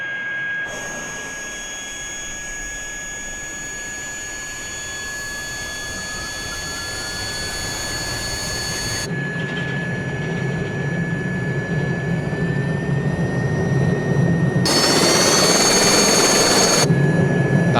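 An Alouette III helicopter turbine in Flight Simulator 2020 spools up near Mont Blanc: a high whine with steady tones rising slowly in pitch and loudness while a deep rumble builds, with brief bursts of broadband noise and no talk.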